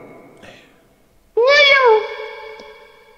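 A single drawn-out meow rises and falls for about half a second, loud and close, a person's voice imitating a cat in VRChat.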